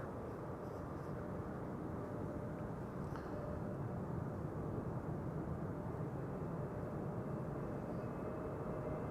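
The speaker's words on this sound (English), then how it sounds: "First up, EasyJet A320neo arriving from Valencia in Spain." EasyJet Airbus A320neo arriving at Amsterdam Schiphol Airport from Valencia, a steady, moderate jet rumble and engine hum that holds fairly even at mid distance, with no voices over it.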